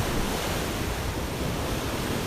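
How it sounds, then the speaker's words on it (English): Ocean waves wash against the shore at Miami, Florida, a dense, steady roar of surf with wind buffeting the microphone and no voices. "Listening to the waves."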